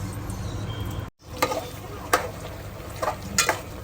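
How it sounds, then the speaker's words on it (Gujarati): Potatoes fry with masala in a pan while making Kutchi dabeli, a soft continuous sizzle punctuated by a few distinct scrapes and clinks of a spoon against the pan, close up with no voices. "હવે આપણે આને પેલા મસાલો નાખીને આને ફ્રાય કરી નાખશું"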